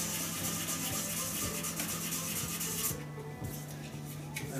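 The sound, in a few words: sanding epoxy resin shaving brush handle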